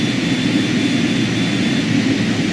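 Steady turboprop engine drone of a Carenado King Air B200 in the flight simulator MSFS 2020, a loud continuous whine and rumble holding at an even level throughout with no voices.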